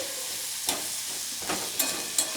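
Fish and potatoes frying in a pan with green chillies, a soft steady sizzle broken by a few scraping stirs of a spatula, close and quiet, with no voices.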